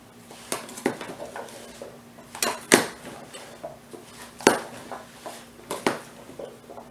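Potatoes, broccoli and ham get stirred in a casserole dish, with a utensil scraping and clinking against the dish in separate sharp knocks among quieter shuffling, close by and with no voices.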